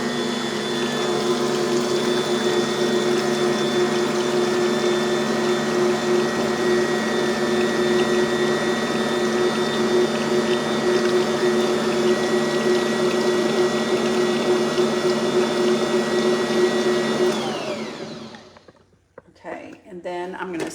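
Bosch stand mixer motor running steadily while mixing pumpkin bread batter, a loud continuous whine with a constant hum, then switching off near the end and winding down into quiet.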